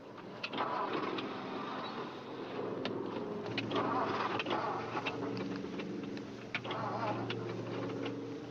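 An old car's engine sputters and cranks as it stalls with faked trouble, with uneven ticking and clattering bursts over a low motor rumble and brief distant voices.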